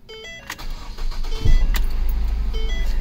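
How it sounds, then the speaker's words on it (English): A Ford Focus with an engine misfire cranks and catches after a few faint clicks and a whir, then settles into a loud, steady low idle that runs on to the end. "we're just going to go ahead and give her a start"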